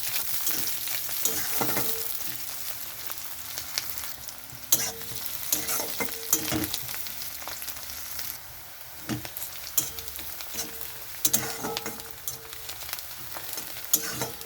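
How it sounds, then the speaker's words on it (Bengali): Garlic and onion frying in hot oil with cumin and chilli in a pan, a steady loud sizzle with repeated scraping stirs of a spatula clattering against the pan, close up and without talk. "তো রসুন আর পেঁয়াজটা একটু ভেজে নেব।"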